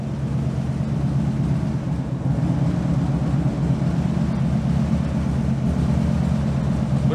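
A Harley-Davidson motorcycle engine idles after an internal cleaning, giving a deep, steady thumping rumble that runs close and loud with an even, continuous rhythm throughout.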